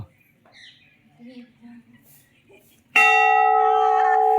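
Low voices murmur, then a temple bell at Tapovan Mahadev temple is struck once, loud and close, ringing on with a sustained, shimmering tone.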